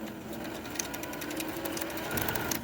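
A Singer Touch Tronic 2001 computerized sewing machine motor runs with a steady whir and a rapid ticking rhythm from the needle drive, heard up close at moderate volume.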